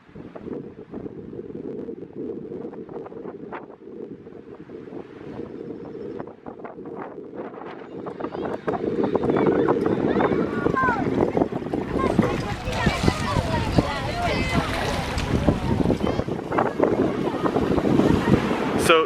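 Mediterranean Sea waves washing onto the shore on the Costa Brava, a steady rushing surge blended with heavy wind buffeting the microphone, swelling louder partway through.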